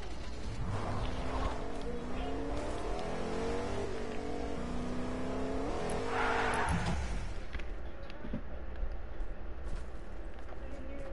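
A car engine revs and accelerates in a video game, a steady, loud roar with rising and falling pitch and a surge midway, running continuously under brief voices.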